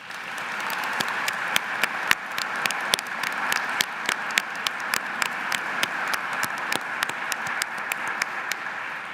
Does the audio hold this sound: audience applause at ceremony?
yes